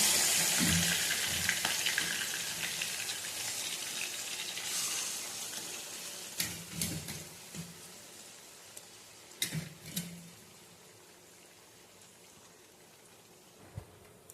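Chicken pieces frying in hot oil, with a steady crackling sizzle and a few louder clattering stirs and scrapes of a spoon in the pan, close and with no talking.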